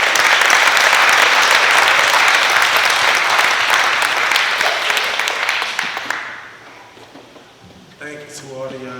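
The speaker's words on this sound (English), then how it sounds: "Give him a round of applause." A graduation audience breaks into loud, sustained applause that gradually thins and fades out, followed by a voice starting to speak at the end.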